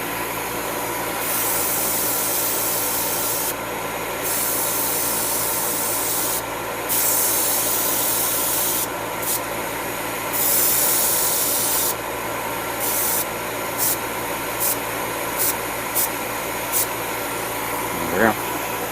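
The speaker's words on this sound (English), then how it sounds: "if I spray a little primer on it" Repeated short bursts of aerosol primer spraying onto a plastic model kit, some long and some brief hisses, over a steady background hum.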